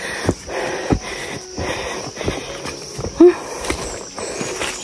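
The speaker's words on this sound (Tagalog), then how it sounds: "Hingal ako, hingal kalabaw." Heavy panting and breathing from someone hiking up a steep path through a coconut grove in the province, close and rhythmic, mixed with footsteps and rustling over an insect-filled outdoor background.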